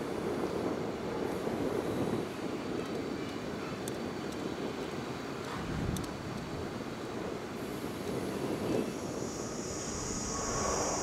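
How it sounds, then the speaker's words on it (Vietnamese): A Sukhoi Superjet 100 airliner landing at Noi Bai airport gives a steady, rumbling jet roar heard from a distance, holding at an even level with no talk. "Và đây là một chiếc máy bay đặc biệt khác đang hạ cánh xuống sân bay Nội Bài."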